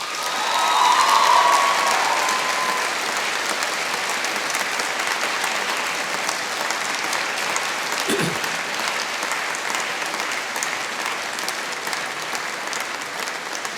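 A graduation ceremony audience applauds: sustained dense clapping from a large crowd, steady and moderately loud throughout, in a hall.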